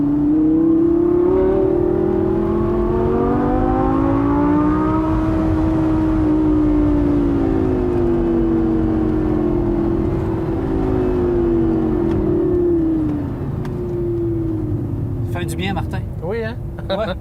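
A 2016 Ford Mustang GT350 engine revs up and accelerates, its loud note climbing and then falling away over several seconds, with people talking beneath it.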